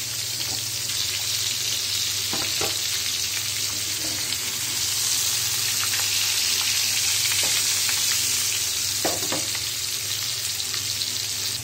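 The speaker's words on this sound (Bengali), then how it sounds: "আমার মাছটা ভাজা হচ্ছে।" Pieces of katla fish sizzle and spit in hot oil in a pan during home cooking, a steady close frying hiss that runs the whole time with a few brief clatters and no talking.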